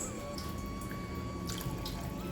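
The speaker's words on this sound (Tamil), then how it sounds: "நான் தண்ணி கொஞ்சம் தண்ணி சேர்த்து" Water poured into rava khichdi while cooking, a faint steady trickling stream with a few soft splashes and a light background hum, no talk.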